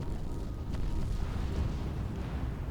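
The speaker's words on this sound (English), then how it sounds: "the Pillar of Virtue just got wrecked by those cannons" Cannon fire and explosions in the space strategy game Sins of the Prophets, a dense continuous low rumble of distant blasts and booms with no single shot standing out.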